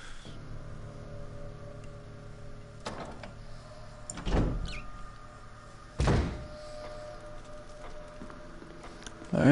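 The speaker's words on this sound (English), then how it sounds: "Okay, we're gonna just go through this door here." A door opening in the Resident Evil PS4 remake video game, two solid thunking clunks a couple of seconds apart over a low ambient game drone, with a softer knock at the end.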